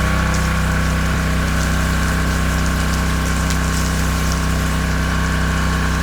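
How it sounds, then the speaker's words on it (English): Softwash rig switched to a freshwater rinse, sprayed through a 500 nozzle at about 9 metres for a house wash: a steady, loud pump drone and rushing water spray continue unbroken with no talk. "we can flick over to our freshwater rinse. That's the 500 nozzle at 9 metres."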